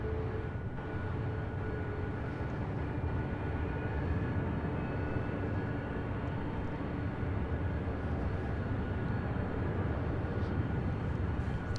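A Southwest Boeing 737 MAX 8 taxis at LAX, its jet engines making a steady, broad rumble and whine that holds even and unbroken from a moderate distance throughout.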